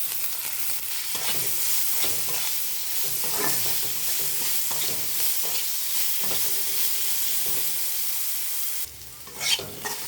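Potatoes fry and sizzle in a wok while being stirred, giving a steady, close crackling hiss with repeated scraping strokes and a brief louder clatter near the end.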